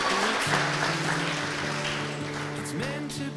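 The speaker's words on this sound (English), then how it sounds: "Everybody clap for her." Wedding guests at a Venetian wedding clap for the bride: a steady wash of applause running the whole way through, mixed with tonal music, with no one speaking.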